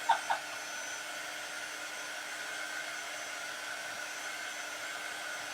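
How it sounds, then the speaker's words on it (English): A hair dryer blowing on a craft project from a Heart & Home kit, a steady even whir running throughout at moderate volume after two brief clicks at the start. "we'll blow dry it too"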